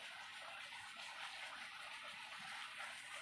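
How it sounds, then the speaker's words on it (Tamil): Water runs steadily along an irrigation channel on a farm beside lemon plants, a continuous close rushing and gurgling flow with no voices. "தண்ணி ஓடிக்கிட்டு இருக்குது."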